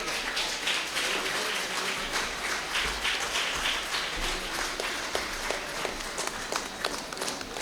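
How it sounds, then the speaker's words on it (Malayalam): An audience at a residents' association Onam celebration claps for children winning a football shootout prize. Steady, moderately loud applause of many hands runs throughout, with faint footsteps and movement underneath. "നല്ലൊരു കയ്യടി കൊടുക്കുക നമ്മളെ കുട്ടികൾക്ക്"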